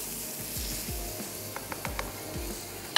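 Dal with ginger, green chillies and coriander sizzles softly in a pan while a spoon stirs through it, giving repeated scraping strokes and a few light taps over a faint, steady fry.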